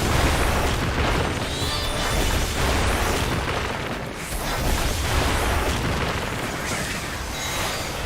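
A fire plume attack in Final Fantasy XIV erupts in a dense, roaring explosion that holds steady and loud for the whole stretch, with no voices over it.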